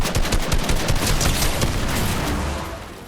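Video game gunfire on a PS5 with a custom controller: loud, rapid bursts of shots crackling close and continuous, fading slightly at the end.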